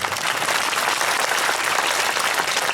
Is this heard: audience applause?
yes